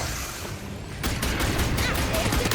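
A pulse gun fires in Starship Troopers: Ultimate Bug War, starting after a brief quiet stretch and then continuing as a rapid, sustained burst of shots.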